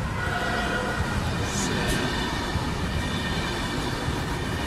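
A train rumbles past close to a station in Tradate, Italy, a steady dense roar of wheels on rails with a brief high squeal partway through, loud and constant throughout.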